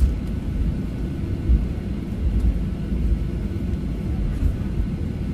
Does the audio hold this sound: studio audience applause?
no